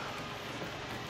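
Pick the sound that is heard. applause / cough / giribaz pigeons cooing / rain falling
rain falling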